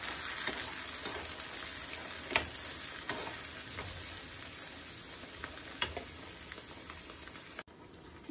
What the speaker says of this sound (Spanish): Le pongo cebollita, aceite poquito y lo dejo dorar